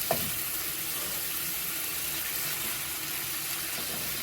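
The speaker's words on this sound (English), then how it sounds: "I'm just gonna fry this up" Ground beef, ground pork and bacon frying in a skillet, a steady, even hiss of sizzling fat with a small clink at the start, continuous and fairly close without talk.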